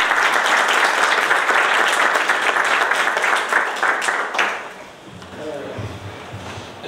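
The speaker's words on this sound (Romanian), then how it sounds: "eu vă propun să aplaudăm gazdele noastre" Audience at an agricultural research station's soybean day applauds the hosts, a loud continuous burst of clapping that fades out after about four seconds, followed by quieter room sound and a brief voice.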